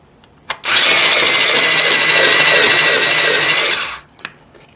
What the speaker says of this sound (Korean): 그래서 사용하는 전동 연필 깎기인데 이걸로 연필을 깎으면 굉장히 편하고 간편하게 잘 깎여요